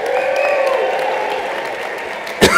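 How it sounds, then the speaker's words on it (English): Audience applause at a ski touring talk, a steady wash of clapping from a crowd with faint voices mixed in, ending with a brief louder thump. "Let's give them a big round of applause,"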